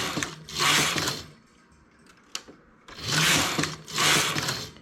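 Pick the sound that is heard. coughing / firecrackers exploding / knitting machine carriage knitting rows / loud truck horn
knitting machine carriage knitting rows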